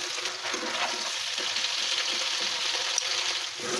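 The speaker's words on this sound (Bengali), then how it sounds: "তার জন্য প্রথমে আগে করলাগুলি ভেজে নিতে হবে" Slices of bitter melon frying in oil with a little salt make a dense, even sizzle that holds close and steady throughout.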